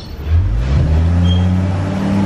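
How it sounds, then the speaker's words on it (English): A car passes by in the background behind a backyard, its engine swelling in quickly, then holding a loud, steady droning hum with rising tones as it goes by. "anytime I come out here in the backyard to record anything, every car wants to pass by"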